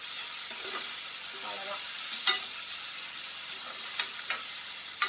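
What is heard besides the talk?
frying cumin seeds in oil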